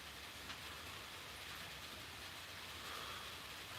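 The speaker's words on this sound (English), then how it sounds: "Much rain noise through the camera or whatnot?" Steady rain hissing on a surface outside during a live stream, a faint, even broadband wash with no voices over it.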